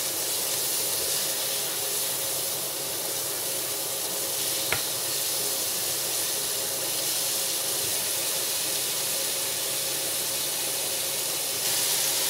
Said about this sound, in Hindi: यहाँ 2-3 मिनट मैंने भून लिया।